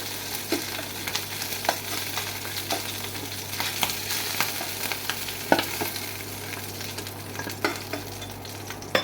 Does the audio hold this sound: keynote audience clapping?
no